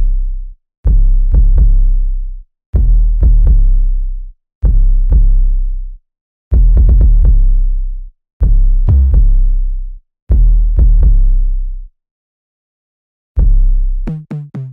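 An 808 bass pattern rooted on C plays alone, with punchy booming hits jumping up one and two octaves in a repeating rhythm, softer at the higher octaves, separated by short gaps before a brief pause near the end.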